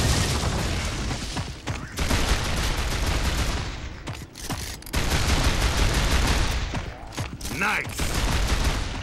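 Boomshot explosive launcher fire and heavy blasts in a Gears of War 3 multiplayer match, dense bursts of gunfire and booms with brief gaps, while a player speaks briefly over the noise.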